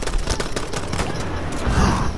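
Rapid gunfire in a WW1 battle film set at the first battle of Arras; dense bursts of overlapping shots crackle close and loud, with shouting voices mixed in.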